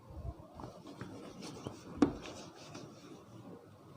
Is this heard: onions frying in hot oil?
no